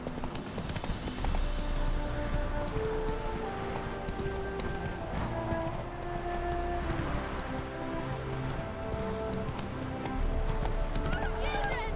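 The horse Roach gallops in The Witcher 3 video game, with a rapid, continuous run of hoof beats, game music and a brief whinny in the background.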